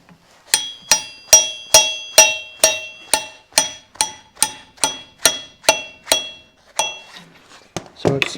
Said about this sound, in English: So what we'll do is take this, I'm going to drive it in just a little bit.